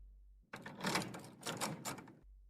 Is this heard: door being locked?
yes